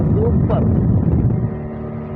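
A speedboat on the lake at Mattupetty, Munnar, roars with a steady, loud engine drone and rushing water throughout, while a person briefly exclaims over it.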